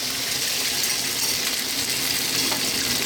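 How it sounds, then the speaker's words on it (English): Whole plum tomatoes from a can and stock pour into a hot, sizzling pot for chicken potato stew, giving a steady, dense hiss and gush that stays loud throughout without a break. "We're now going to drop in that 1 can of tomatoes, whole plum tomatoes, 300 ml of stock,"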